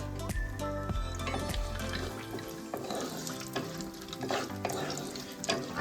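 Almonds and cashews dry-roasting in a pan over a low flame, with continuous stirring, scraping and soft sizzling up close, and brief clinks of nuts against the metal.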